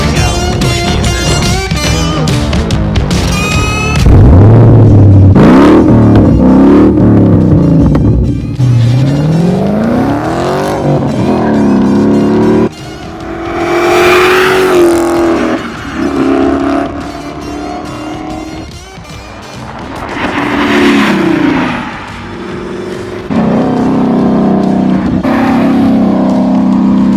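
A Ford Shelby Mustang GT350 with its Coyote engine revs hard and accelerates, loud and close, the engine note rising and falling through several pulls and gear changes over roughly half a minute.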